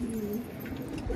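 Pigeons at a keeper's loft in Rohtak give a low, soft, rolling coo that holds steady for about a second against a background murmur, close by and moderately loud.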